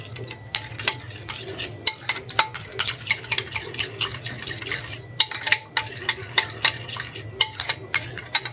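A spoon stirring a soy sauce mixture in a bowl until the lumps dissolve: repeated sharp clinks and scrapes against the container at an uneven rhythm, close and fairly clear over a low background hum.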